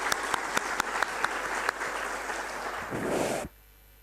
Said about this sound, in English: I would like also to ask for you, the audience, for an applause for the distinguished guests of the third panel